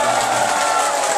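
An audience at a Tagalog product presentation claps together, a dense, steady wash of applause with no break.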